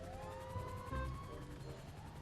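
A fire engine siren in the video game GTA V wails with rising and falling tones over low engine rumble and traffic noise. It sounds close and steady, with no talk.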